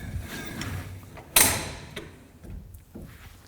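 An Air Dry folding frame clothesline being opened: a sharp metallic clack stands out amid softer creaks and rattling of the frame as the arms swing out, close and alone.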